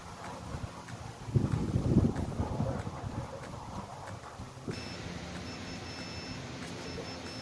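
Wind blows outdoors in a garden, rumbling and gusting against the microphone with a louder burst early on, then a steadier, fainter hiss with faint background tones.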